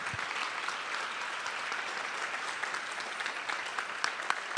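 Sustained audience applause at a Vedic stress-management event honoring children's choreographed performance, steady dense clapping throughout, moderately distant and even in level.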